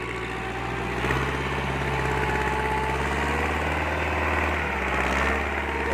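A Kubota M5000 tractor's 4.8-litre engine runs steady and smooth at idle, close and continuous, a low chugging hum without stumbles.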